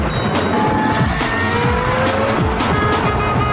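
Steady, loud roar of highway traffic on Interstate 275 east of Detroit, with continuous tire tread hiss and engine drone from passing vehicles, no voices.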